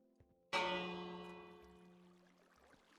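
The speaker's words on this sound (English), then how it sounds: "think the bell makes them run to their houses" A village bell in Minecraft strikes once, a clear resonant clang that rings out and slowly decays over a quiet background.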